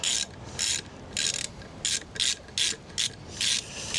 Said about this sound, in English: good practice would be to tighten opposite nuts